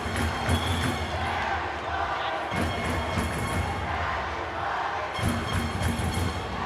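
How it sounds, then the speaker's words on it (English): Rival high school fan sections for the Friars and Geckos chant and cheer back and forth at a boys volleyball championship match, a dense, roaring crowd with rhythmic chanted phrases that keep swelling and breaking off across the gym. "We have some cheering competition between the Friars and Geckos."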